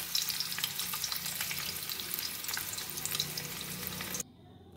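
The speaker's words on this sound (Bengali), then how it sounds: "দেখো পনিরটা আমার সব ভাজা হয়ে গেছে" Paneer pieces frying in oil in a pan, with a steady, dense sizzle and crackle heard up close for about four seconds, then cutting off abruptly near the end, leaving near silence.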